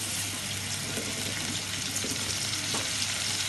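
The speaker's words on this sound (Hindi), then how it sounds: "उसके बाद थोड़ा लहसुन अदरक को थोड़ा फ्राई करना है।" Steady sizzling and crackling of garlic and ginger frying in a pan, continuous and fairly close, with faint scraping of stirring underneath.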